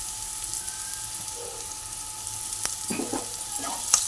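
Onions fry in oil in a pan with turmeric added, a soft continuous sizzle that turns into scraping, clattering stirring strokes of a spoon against the pan toward the end; no talking.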